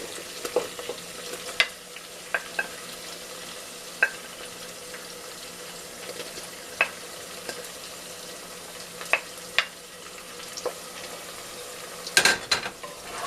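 Tomatoes going into onions frying in a pot for Ghanaian jollof rice, a quiet steady sizzle with scattered sharp clicks of a spoon against the pot and a small clatter near the end.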